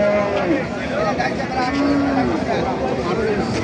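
Cows moo repeatedly at a busy cattle market in Thakurgaon, with several drawn-out lowing calls over a crowd's murmur and nearby talking voices.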